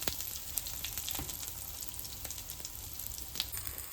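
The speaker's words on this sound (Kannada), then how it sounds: "ಚೆನ್ನಾಗಿ ಫ್ರೈ ಆಗಬೇಕಿನ್ನು ಕೋಟಿಂಗ್." A coated sandwich filling frying in a pan gives a continuous close sizzle with occasional sharp crackles and pops, no speech.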